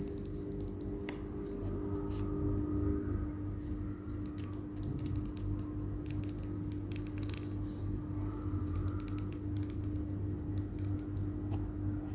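Close-up clicking and creaking of an infrared cooker knob being turned, with irregular bursts of small mechanical clicks over a low background hum.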